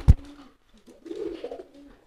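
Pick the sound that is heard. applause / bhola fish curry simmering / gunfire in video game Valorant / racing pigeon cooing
racing pigeon cooing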